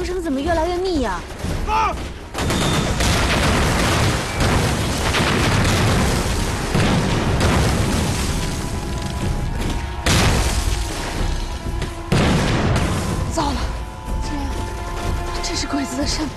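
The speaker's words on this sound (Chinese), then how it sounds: "这是鬼子的山炮，这得有多少鬼子呀？" Mountain artillery in a war film fires with heavy booms and explosions amid rapid bursts of gunfire, loud and continuous throughout, with shouting voices in the mix.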